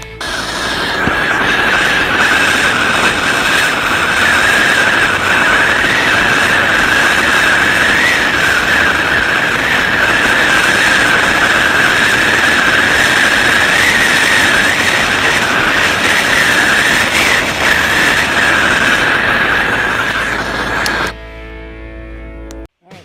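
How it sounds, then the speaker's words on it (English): A gas torch heats a copper fitting on an outdoor hose bib pipe for soldering, giving a steady, loud, continuous roaring hiss with a bright high tone that runs unbroken for about twenty seconds, then cuts off abruptly. "we're going to heat this up and put a bead of copper, solder on there"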